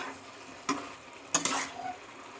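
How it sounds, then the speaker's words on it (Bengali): Jackfruit and potato are stirred with spices in a pan, giving a faint sizzle with two or three brief scraping strokes of a spoon against the pan. "এইবার ভালোভাবে মশলার সাথে এঁচোড় আর আলুটাকে কষিয়ে"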